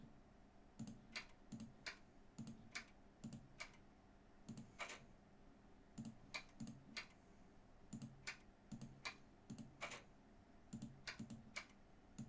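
Rapid bursts of key clicks from a computer keyboard, tapped in short irregular clusters with brief pauses, close and fairly quiet over a low steady background hum.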